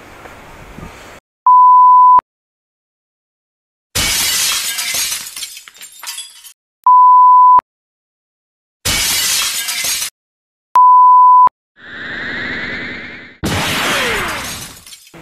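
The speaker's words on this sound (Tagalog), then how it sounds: "Pwedeng batuhin ng bote. Parang ganito." Glass bottles thrown at a wall at a resort in Tanay, Philippines, smash loudly in three separate bursts, each shatter separated by short censor beeps, with no talking.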